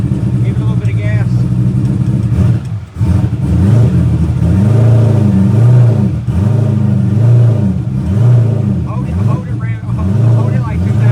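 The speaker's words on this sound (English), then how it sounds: "Give it a little bit of gas." A bus engine, a boosted build with a drop bumper under work, runs loud and steady close by, its pitch rising and falling in repeated swells as throttle is applied and eased.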